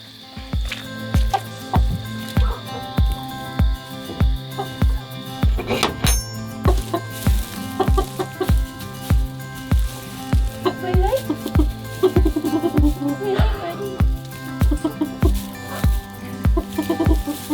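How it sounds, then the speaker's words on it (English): Chickens clucking softly inside a chicken coop amid a steady, rapid clanking rhythm and occasional metallic clinks, with brief rustling in the middle. "I'm gonna get Oa, move him into the chicken coop, and call it a night."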